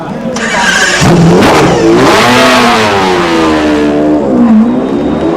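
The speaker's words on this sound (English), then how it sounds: "Behind McLaren rejoins the race." A McLaren race car at Le Mans 1995 pulls away from the pits, its loud engine revving and climbing through gears up close while a commentator talks over it.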